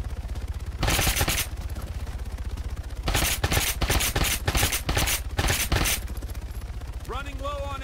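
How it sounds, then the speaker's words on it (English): Arma 3 gunfire rings out in rapid bursts, one short volley followed by a longer rattling string of close, loud shots, with radio-style voices and game noise underneath. "Shoot at it, just shoot."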